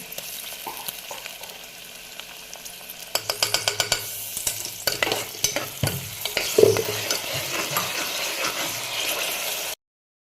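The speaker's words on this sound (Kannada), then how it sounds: "ಈಗ ಸ್ವಲ್ಪ ಶುಂಠಿ ಬೆಳ್ಳುಳ್ಳಿ ಪೇಸ್ಟ್ ಹಾಕೊಳತ್ತಿ ನೋಡ್ರಿ" Ginger-garlic paste frying in a pan with beans, a steady sizzle broken after a few seconds by a run of sharp, close scraping and clacking strokes as it is stirred, with no talking.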